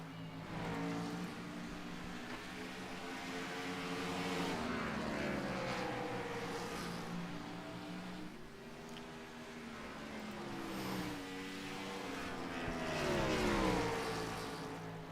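Race cars lap the Bristol track, engines swelling and fading in long passes as they come around, a steady roaring drone with rising and falling pitch, heard from a distance.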